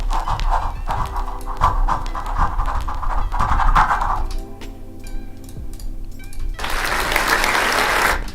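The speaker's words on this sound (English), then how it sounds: "Let's throw in some applause here" A burst of crowd applause and clapping from a sound effect rises loudly near the end, after a stretch of rhythmic panting-like breathing and ticking.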